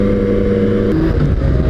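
A Yamaha MT-09 Tracer motorcycle in rain mode accelerates on a wet road, its engine loud and close with a steady drone that shifts pitch midway.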